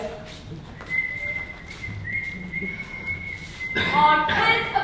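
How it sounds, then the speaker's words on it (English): A woman whistles a steady, sustained tone for a few seconds, close and moderately loud, with some rustling movement and a brief burst of noise near the end. "I can't abide a woman whistling"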